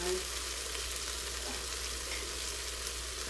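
A pan with ground beef stuck to the bottom hisses steadily as it is deglazed, a loud, even sizzle with a faint hum underneath.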